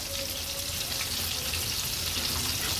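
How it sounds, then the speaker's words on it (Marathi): Backwater fish frying in oil in a pan, Agri-Koli style, with a steady, continuous sizzle and crackle close by and no talking. "आता मागची बाजू पण आपण अशाच पद्धतीने तळून घेणार आहोत।"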